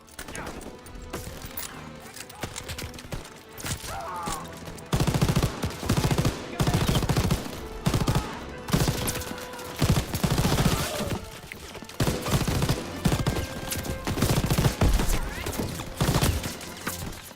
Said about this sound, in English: Lethality of these machine guns